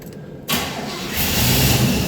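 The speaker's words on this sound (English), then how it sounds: "Let's try it and see if we can get a turnover right quick." Small engine on a slab project cranking and catching, a sudden burst of rough mechanical churning that builds into a louder running rumble over about two seconds, near and without speech.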